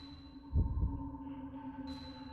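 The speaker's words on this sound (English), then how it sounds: "Why is my heart beating here?" A single low, muffled double-thump heartbeat from the video game Fatal Frame III, close and heavy, over a sustained humming ambient drone.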